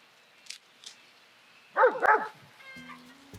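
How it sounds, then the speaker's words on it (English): A dog gives a short burst of two or three barks nearby, mid-distance and fairly loud, after faint clicks, followed by a brief tonal squeak. "What is he barking at?"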